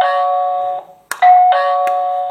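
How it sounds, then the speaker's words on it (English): A wireless 433 MHz doorbell chiming loudly and close, with two sustained electronic tones separated by a brief gap and a sharp click in between. "I set the following parameters that this is a doorbell and now I press the key"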